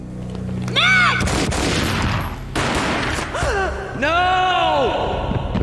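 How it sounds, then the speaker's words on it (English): Gunfire in the Max Payne video game booms in loud, sharp bursts, mixed with whooshing slow-motion effects and pitched cries through a dense, busy game soundscape. "A gunshot boomed and she fell down in slow motion."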